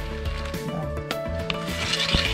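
Dried topote fish, a small lake fish from Catemaco, crackling as it dries over a wood fire in an oven, heard as faint scattered pops and crackles beneath a steady low hum, close by with no talking.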